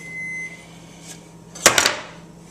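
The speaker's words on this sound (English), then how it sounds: "it sounds like the oven's up to temperature" An oven beeping to signal it has preheated, a short run of a few quick close tones after a quiet stretch with faint hum.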